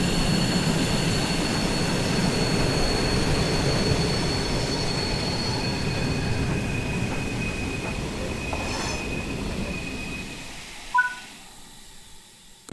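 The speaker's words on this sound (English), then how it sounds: "Apply a small amount of brake and bring the train to a stop at the station." A train brakes to a stop at a station in Train Sim World 6, with a steady loud rumble of wheels and squealing rails that tapers off. A short hiss of air brakes sounds at the very end.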